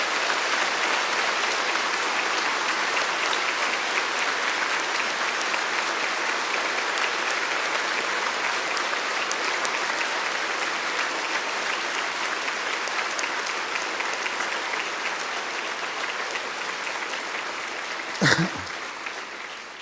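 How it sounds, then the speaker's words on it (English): Long, steady applause from a large audience at an oath-taking ceremony for newly passed 2022 bar examinees, dense continuous clapping that holds at an even level for nearly twenty seconds before a brief thump near the end. "give a big and long round of applause for everyone that has brought you here"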